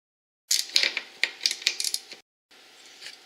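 Gas tank bolts being removed from a Polaris Sportsman ATV during an engine teardown, heard as close, rapid clicking ratchet strokes in bursts, with a short pause before more ratcheting.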